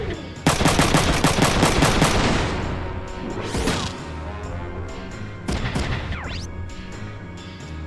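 Rapid shotgun and gunfire bursts from the Front Mission 3 video game, a dense loud volley in the first seconds, then fading, with a few sharp renewed shots later amid game sound effects and music.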